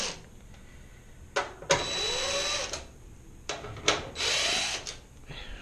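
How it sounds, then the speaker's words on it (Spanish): Power screwdriver fitted with a Phillips bit backing four screws out of a GE washing machine, in short whirring bursts separated by pauses, close and fairly loud with no talking. "vamos a agarrar una punta de estrella, se la vamos a poner al destornillador y vamos a quitar estos 4 tornillos"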